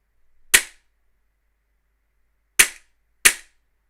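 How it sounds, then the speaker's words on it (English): Three sharp gas-blowback shots from a Tokyo Marui M&P9 airsoft pistol, close and loud: one crack, a long pause, then two more in quick succession, each with a brief ringing tail, no voices. "Just make a few shots with this if it's got a bit of gas left in it."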